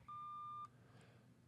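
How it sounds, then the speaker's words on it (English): A single clean voicemail beep, a steady tone lasting about half a second, clear and close, followed by quiet line hiss. "So go ahead and leave a voicemail after the beep."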